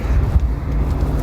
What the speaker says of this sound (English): You can hear the car driving past. It's not a highway, but it's a busy road.